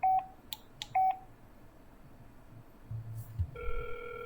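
A Hikvision vandal-resistant access control terminal dials HiConnect: a few crisp keypad beep tones, a pause, then a steady electronic ringback tone beginning near the end, close and clear.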